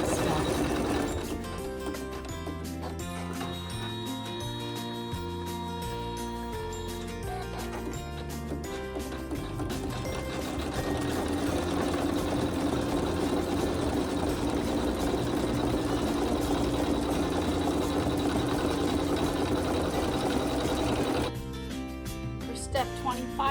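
A Brother Navigator sewing machine stitches a quilt with a continuous, fast mechanical whirr for about twenty seconds, then stops abruptly, with a voice talking over it.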